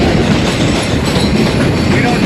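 A train rolls past on a Brooklyn railroad, a loud, continuous rumble with steady clickety-clack of wheels on rails and no voices over it.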